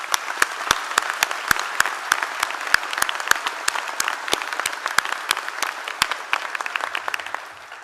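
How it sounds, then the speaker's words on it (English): A graduation audience at Ulster University in Derry-Londonderry applauds university staff, with steady clapping that has sharp individual claps standing out, moderately loud and sustained throughout. "I'd hope you join me in a round of applause for all of those colleagues behind them"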